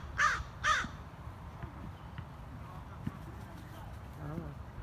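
A bird, thought to be a hawk, gives two loud harsh caws close by near the start, then only faint outdoor background with scattered small sounds.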